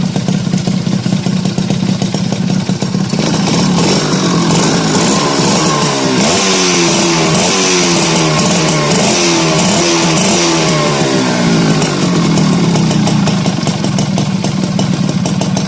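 Motorcycle fitted with a replacement Mikuni carburetor running close by, a loud steady engine drone whose pitch wavers and lifts slightly as the idle rises, with no talking.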